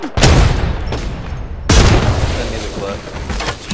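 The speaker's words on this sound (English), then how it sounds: "He's shooting, trying to shoot the box and shit." Gunfire in a shooter video game, two loud booming shot bursts each trailing off into rumble, close and heavy, with voices talking underneath.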